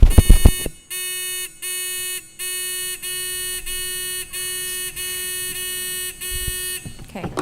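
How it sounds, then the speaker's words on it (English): Quiz competition buzzers are tested at a Knowledge Bowl final. Loud electronic tones sound one after another, about nine steady blasts, each roughly half a second long, with short gaps between them. "can we just check the buzzers?"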